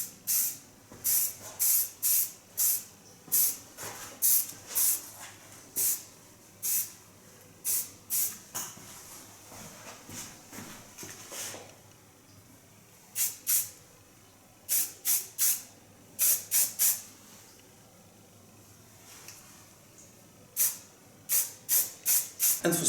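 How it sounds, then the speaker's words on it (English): Short bursts of fine Lanza hairspray from an aerosol can in a hair salon, hissing in quick clusters of rapid puffs with pauses between them, close and crisp. "Take very fine hairspray. This one is of Lanza."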